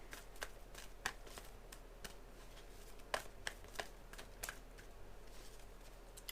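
Tarot cards are shuffled close by in a quiet room, giving soft repeated riffling snaps that come in an irregular rhythm.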